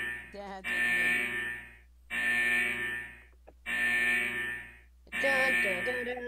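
A harsh electronic alarm in the video game Club Penguin Rewritten buzzes in four long, evenly spaced blasts, with short silent gaps between them.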